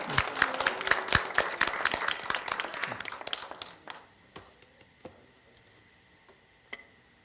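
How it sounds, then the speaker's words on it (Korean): Audience clapping at a 2022 Gangseo district policy forum on independent living and deinstitutionalization for people with disabilities, greeting presenter Kim Yul-man; dense claps for about four seconds, then thinning into a few scattered late claps. "여러분 박수 한번 주십시오"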